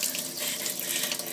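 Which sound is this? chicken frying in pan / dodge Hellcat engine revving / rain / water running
water running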